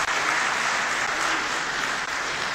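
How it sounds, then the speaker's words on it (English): Sustained applause from a conference audience honoring guest Hussain Dawood at a CFO conference in Lahore, a dense, even wash of clapping held at steady loudness for the whole stretch with no voices over it. "Please give Hussain Saab a very big round of applause also."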